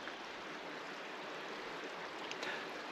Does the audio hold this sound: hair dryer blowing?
no